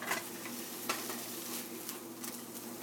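An egg omelet being folded in a hot frying pan, with a continuous close sizzle and a few soft scraping stirs, no voices.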